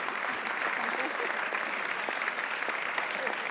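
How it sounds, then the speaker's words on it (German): An audience at the TÜV Austria science award ceremony gives steady, even applause for the prize winners, a dense wash of clapping that holds unbroken for the whole stretch. "einen großen Applaus eben für Sie beide"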